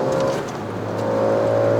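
A car engine blipped during a heel-and-toe downshift on a drive in Malaysia, a steady close engine drone with a slight rise in revs toward the end.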